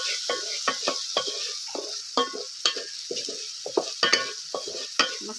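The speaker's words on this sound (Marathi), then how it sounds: "असं मिश्रण मी परतून घ्यायचंय आपल्याला" An onion-garlic masala mixture for mutton biryani is stirred and sautéed in a pan, giving repeated sharp scraping strokes in an uneven rhythm over a soft, constant sizzle, close and alone.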